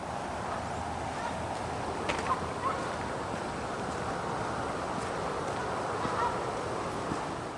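Geese honk now and then from across a nature center, a little distant, over the steady rush of a running stream and light wind.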